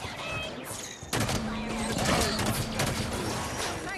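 Gunfire erupts in the Halo 5 video game during a Blue Team mission against camouflaged Elites, a dense barrage of shots starting about a second in and continuing loudly, with a voice speaking briefly over it.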